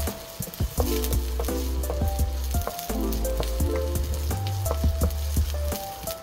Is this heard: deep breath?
no